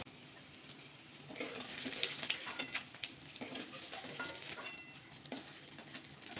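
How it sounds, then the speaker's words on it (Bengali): Paneer cubes frying in hot oil in a pan, a steady crackling sizzle with occasional stirring scrapes, close and moderately loud, no talking. "আর একটু ভাজা করবো পনিরটা, বেশি কিন্তু পনিরটা ভাজা করবো না"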